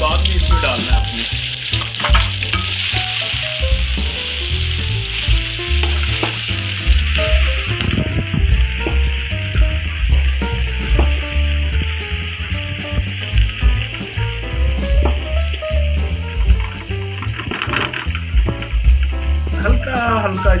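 Finely chopped onion sizzles steadily in hot oil in a pan while being prepared for brinjal bharta, a loud continuous fry with occasional stirring clatter and someone talking over it.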